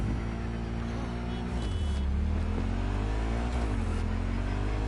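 A small truck drives in Cyberpunk 2077, its engine a steady low drone that rises and falls twice as the revs climb and drop, loud and close throughout.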